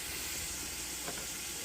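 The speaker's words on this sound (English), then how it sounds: "I mean, it's slightly boiling." Rice simmers gently in a pot, giving a soft continuous hiss and faint bubbling close by with no talk.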